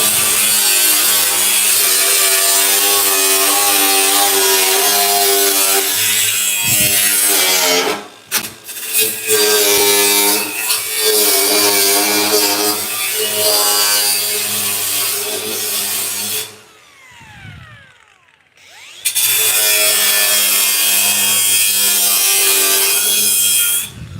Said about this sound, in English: So I'm going to trim this a little bit more.